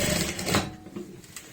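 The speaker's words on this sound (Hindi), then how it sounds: "तो यहाँ पे हम सीधी सिलाई लगाएंगे" A sewing machine runs a straight seam on trousers near a zip, a steady close mechanical whir that stays loud for about half a second, then thins into softer intermittent stitching.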